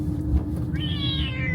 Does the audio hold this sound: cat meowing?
yes